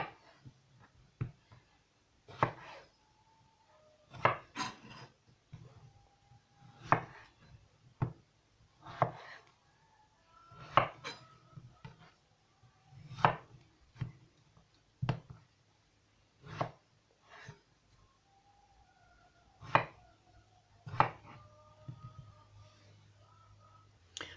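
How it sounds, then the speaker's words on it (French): A knife chops potatoes into chunks on a cutting board, about twenty sharp, close thuds in an uneven rhythm, with brief pauses between cuts and a faint low hum underneath. "Une fois qu'on a coupé nos pommes de terre en tronçons"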